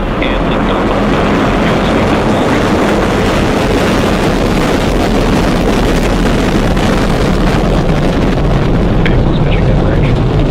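A Falcon 9 rocket lifts off at twilight from Vandenberg, its engines making a loud, steady, broadband roar that rumbles on without a break for the whole stretch.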